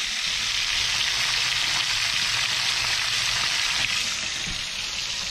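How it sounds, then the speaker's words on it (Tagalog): Six galunggong (round scad) fish fry in hot oil in a pan, making a loud, steady, dense sizzle that carries on unbroken from start to finish, close and without voices. "6 na piraso yung piniprito ko ngayon"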